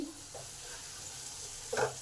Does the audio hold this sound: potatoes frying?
yes